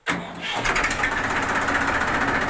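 A 1998 Massey 1035 DI tractor engine cranks briefly and catches, then settles into a steady, rapid diesel chug, close by and loud.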